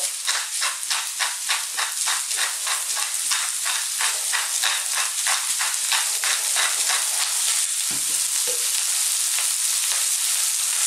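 Vegetables for vegan fried rice sizzle hard in a pan over maximum heat, a loud, steady frying hiss with rhythmic stirring scrapes pulsing through it and a couple of brief knocks near the end.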